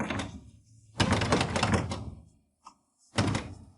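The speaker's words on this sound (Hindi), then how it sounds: "दरवाजा क्यों नहीं खुल रहा?" A locked door being forced, heard as loud bursts of rattling and thudding, two long bouts of shaking and banging separated by a quiet pause and a single knock, with no talk.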